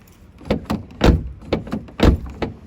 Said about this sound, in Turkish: Kapı sesi size dinleteyim.